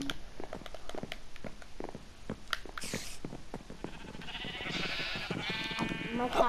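Sheep bleat in a video game, a few wavering calls rising over light tapping and soft background sounds, moderately close and fairly quiet.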